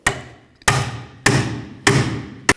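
A hammer strikes a pickle fork wedged on a 2010-2015 Kia Sorento rear shock absorber: four loud, evenly spaced metallic bangs, each ringing briefly, then a fifth starts as the sound cuts off.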